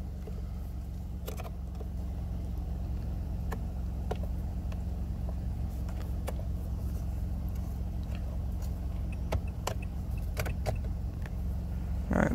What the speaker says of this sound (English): I still have the car running.